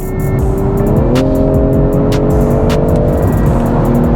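A 2021 BMW M340i engine, loud and close, roars and revs hard, pitch climbing then holding steady, with a powerful rumbling low end and no talking.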